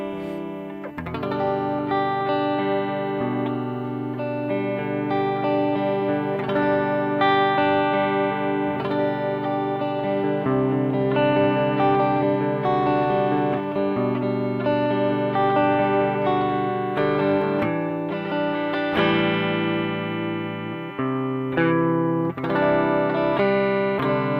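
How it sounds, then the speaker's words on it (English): An electric guitar runs through a tremolo effect driven by a sine-wave LFO, sustained chords and notes pulsing smoothly in volume, played alone for a long stretch with a few chord changes. "and that's the tremolo"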